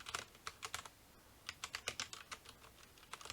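Keys on a MageGee Star 75 mechanical keyboard pressed one after another in an uneven typing rhythm, crisp close clicks and clacks in short bursts with no talking.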